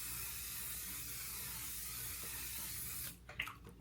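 A size setting spray hisses in one steady, close mist for about three seconds, then cuts off, leaving a few faint rustles and small knocks at the end.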